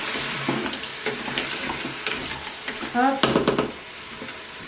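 Mushrooms being stirred in a Cookeo multicooker, a steady scraping and sizzling with a louder clattering burst midway, heard close up alongside a brief spoken word.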